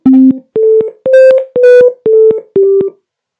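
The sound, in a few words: synthesized ringtone playing the Kartini tune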